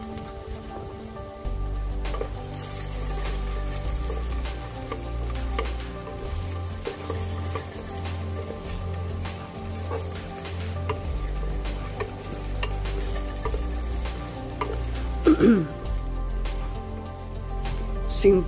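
Garlic sizzles in a hot pan for chicken tinola, a constant close frying crackle with occasional stirring scrapes and clinks, with no talking.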